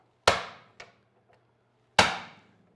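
A hand-held hammer strikes a manual impact driver fitted with a Torx bit to loosen a stripped bolt on a Harley-Davidson motorcycle, giving two sharp metallic blows about two seconds apart, with a lighter tap between them, in a quiet setting.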